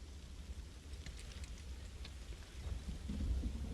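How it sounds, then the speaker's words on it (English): Rain pours steadily with low rolling thunder swelling toward the end, a stormy weather scene in the video game Final Fantasy VII Rebirth. "It started raining."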